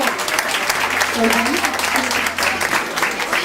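An audience claps during a neighbourhood presentation at a makeup studio, a steady burst of applause lasting a few seconds, with some voices mixed into the clapping.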